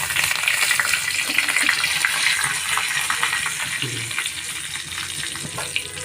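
Curry leaves hit hot oil with asafoetida and cumin for a khandvi tempering, giving a loud, continuous close-up sizzle and spitting that stays dense and steady throughout.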